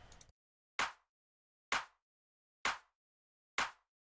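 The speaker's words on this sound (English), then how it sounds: "And then we've got a clap." Clap drum sample programmed in FL Studio for a dance/house track, four sharp, bright claps evenly spaced about once per second, each with a short noisy tail, alone after a brief opening fragment.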